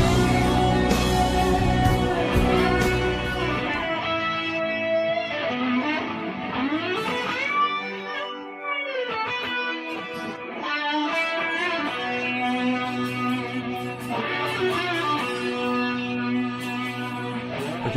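An electric guitar through fuzz, chorus, delay and a rotary split signal plays sustained, fuzzy chords with a swirling, shimmering wash and echoing repeats that ring continuously throughout.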